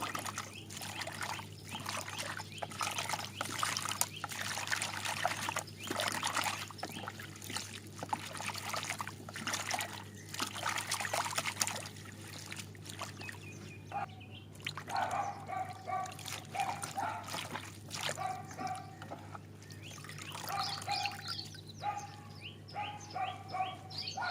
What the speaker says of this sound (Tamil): கீரையில் இருக்கிற மண்ணெல்லாம் போகிற அளவுக்கு 2 டைம் கழுவி எடுத்துக்கலாங்க.